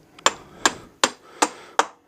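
Five sharp metallic hammer strikes, evenly spaced, knock the axle through the rear wheel of a 2009 Suzuki GSX-R600 motorcycle, each blow loud and close with a short ringing decay.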